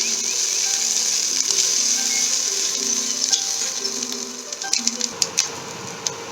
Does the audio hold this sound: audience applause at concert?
no